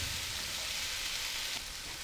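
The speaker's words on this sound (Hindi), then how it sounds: "सब्जियों को भी हम 3 से 4 मिनट लो फ्लेम पर सोते करेंगे" Capsicum and cabbage sautéing over a low flame, giving a steady, close hiss of frying that continues evenly without talk and eases slightly near the end.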